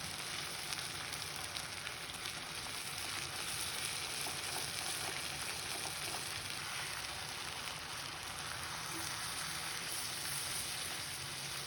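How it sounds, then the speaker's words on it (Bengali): Beef chap pieces fry in oil in a pan until golden brown, giving a continuous close sizzle with a dense crackling hiss that holds steady throughout and has no talk over it. "এখন আরেকটা পাশ আমি একইভাবে গোল্ডেন ব্রাউন কালার আনা পর্যন্ত মাংসটাকে ভেজে নেব"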